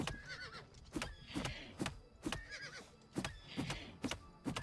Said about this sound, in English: Literally just slapping that horse ass. Only in Oblivion could you do this.